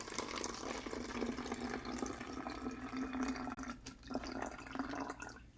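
Water poured into a clean, clear plastic bottle for a homemade lava lamp, a steady splashing, gurgling stream that runs continuously for several seconds with a brief break, close up.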